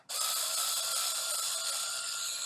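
A power drill or electric screwdriver backs out the screws holding a motor to the frame of an AutoSlide door unit, giving a steady, close whirring run that starts abruptly and holds for a couple of seconds.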